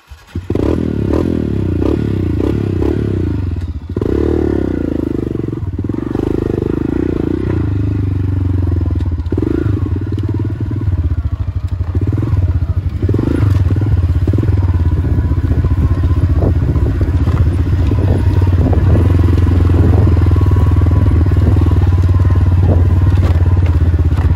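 Trail motorcycles roar on the Bromo dirt track along the Punggung Naga route, with loud, sustained engine revving close by, rising and falling throttle, and clattering and scraping over the terrain throughout.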